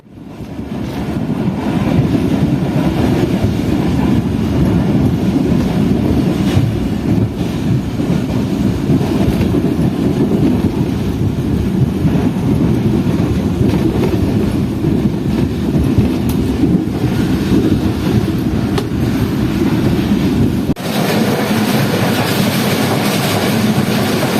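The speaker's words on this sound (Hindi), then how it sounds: "अब हमारी ट्रेन काफ़ी अच्छी स्पीड में स्किप करने वाली है जंगशाही रेलवे स्टेशन को" The Shalimar Express runs at speed, a loud, unbroken rumble and rattle of the rails heard from inside the coach, with wind roar and no talking.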